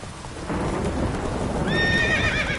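Roach the horse whinnies in The Witcher 3 over a steady rumble of rain and thunder, the drawn-out neigh rising clearly in the final second with no talking.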